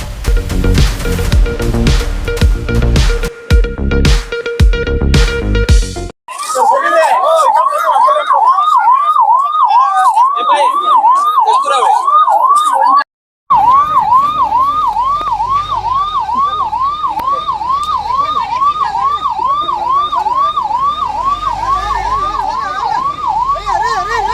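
Ambulance siren wailing loudly and continuously in a rising-falling pattern during a farmers' protest in Vijayapura, with a burst of other street noise at the start and a brief dropout partway through.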